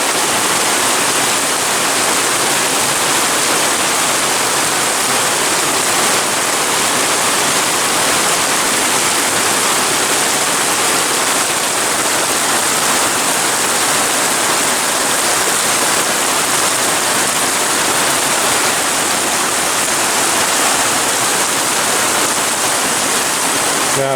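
A downpour of heavy rain falls outdoors by a pond, producing a loud, continuous roaring hiss that stays constant for the whole stretch with no distinct talking.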